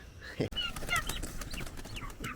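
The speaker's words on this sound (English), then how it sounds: "Last of the turkeys getting pulled off the truck." Turkeys being unloaded from a truck onto pasture, giving a scatter of clucking and gobbling calls at close range, with a sharp knock and rustling among them.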